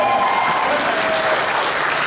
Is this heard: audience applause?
yes